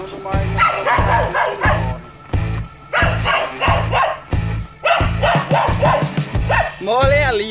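A small dog barks repeatedly and insistently at a tegu lizard it holds at bay, in a steady rhythm, close and loud, ending in a rising whiny yelp.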